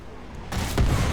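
A Pz.Sp.Wg.P204(f) KwK tank cannon in War Thunder fires one loud, close boom that breaks a quiet lull and leaves a long rumbling tail.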